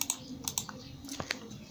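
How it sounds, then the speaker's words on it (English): Keys on a computer keyboard clatter in a quick, uneven run of close, crisp clicks while a spreadsheet is saved, with short pauses between bursts and no voices. "Hit your Control S keyboard button to save your work."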